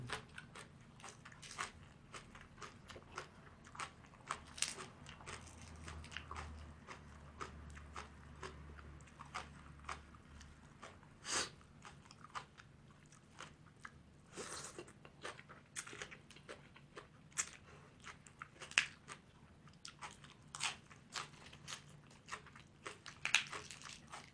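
Someone biting and chewing food up close, a steady run of soft crunches and wet chewing sounds at low volume over about twenty seconds, with no talk.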